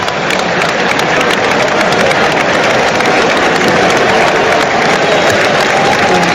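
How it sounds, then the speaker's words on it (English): A stadium crowd applauds Wales player Connor Roberts as he is substituted during the Poland versus Wales match, with steady, dense clapping that fills the whole stretch at full loudness. "Conor Roberts gets warm applause"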